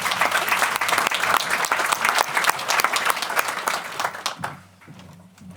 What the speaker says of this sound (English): Round of applause for Shannon.